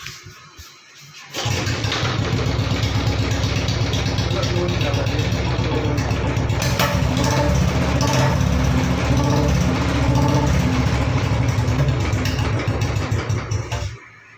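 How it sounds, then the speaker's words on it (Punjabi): A Royal Enfield Bullet motorcycle engine starts and settles into a steady, thumping idle for about twelve seconds before cutting off. "ਆਹ ਮੁੰਡੇ ਦਾ ਬੁਲਟ ਮੋਟਰਸਾਈਕਲ ਆ ਜੀ"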